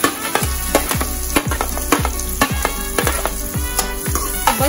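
Onions with garlic, ginger and cardamom fry loudly in a pan. A dense, crackling sizzle is broken by a quick series of regular scraping strokes, roughly two per second, heard close up and alone.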